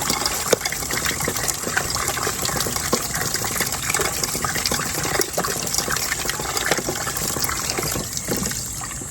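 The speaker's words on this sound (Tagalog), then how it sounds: "Samahan niyo po ako at ako'y maghuhugas po ng aking mga pinggan." Running water while dishes are washed: a steady, loud gush from a tap splashing continuously, close and unbroken, with faint clinks beneath and no talk.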